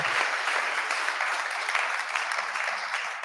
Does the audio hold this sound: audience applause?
yes